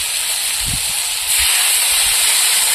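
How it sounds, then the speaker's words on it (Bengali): Sour tamarind water poured into a pan of fried crabs, a loud, close, continuous hiss and sizzle that jumps sharply in intensity as the liquid hits the hot pan and then keeps steaming. "কষিয়ে নিয়েছি, এবার টক জল দিয়ে দেবো।"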